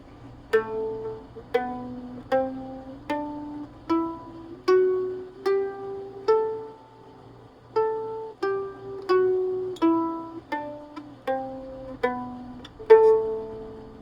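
A mandolin picks a slow G Dorian scale, starting and ending on A, up and back down, each note bright and ringing with quick decay, played alone.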